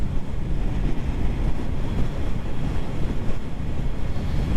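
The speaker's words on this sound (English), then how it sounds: "The wind is too wild to go out wide." Strong gusty wind buffets the microphone with a loud, continuous low rumble and roar that pulses slightly throughout, no voices heard.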